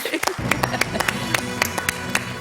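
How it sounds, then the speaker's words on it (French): Applause on the French TV quiz show Questions pour un Champion after a contestant gives the correct answer: a steady run of about nine sharp, evenly spaced claps at moderate loudness over a low murmur of background voices. "Elle applaudit Chantal parce que c'est la bonne réponse."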